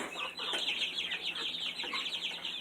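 Buff Orpington chickens cluck and chatter steadily inside a coop, a dense flock sound with overlapping calls throughout and no talking.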